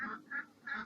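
A large duck held down quacks three times in quick succession, close and fairly quiet, each call a short nasal honk with brief gaps between.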